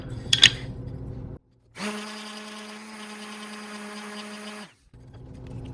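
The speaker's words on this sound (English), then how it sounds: "So we'll take our sander and sand down the sides here." A power sander runs on the wooden sides of a handmade trivet, a steady close whirring drone lasting about three seconds after a brief knock, with quiet handling noise before and after.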